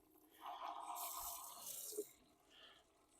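Water running steadily through a newly installed eco-friendly filter on a diverter faucet, a faint, soft hiss and trickle into a sink with a single small drip partway through.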